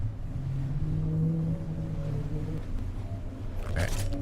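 Boat motors in The Last Caretaker video game drone steadily with a low, continuous engine hum, with a brief louder whoosh near the end.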